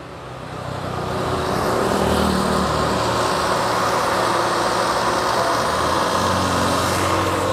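A Daihatsu Xenia engine with heavy exhaust smoke, sputtering water and oil from the tailpipe, revs up from low and holds a steady, loud roar with rough, rattling exhaust pulses.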